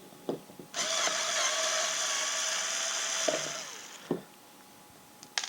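A powered screwdriver backs a screw out of a fishing reel foot, a continuous whirring buzz of about three seconds bracketed by short clicks and taps, close and alone.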